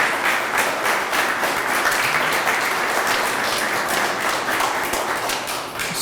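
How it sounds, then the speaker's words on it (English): Sustained audience applause fills a Memorial Day gathering held by veterans' peace advocates, steady, dense and fairly loud throughout with no voices over it. "the applause should be for you"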